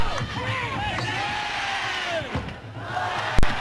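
Stadium crowd cheering and roaring throughout a late first-half attack in a 1999 Major League Soccer match between Columbus Crew and San Jose Clash, a broad sustained wash of voices with brief swells and a sharp thump near the end.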